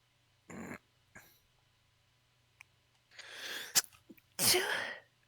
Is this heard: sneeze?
yes